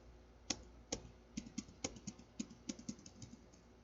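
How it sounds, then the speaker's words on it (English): A computer keyboard is typed on in quick irregular keystrokes, about a dozen crisp clicks close by and fairly quiet, with no talking. "So next command that we are going to type"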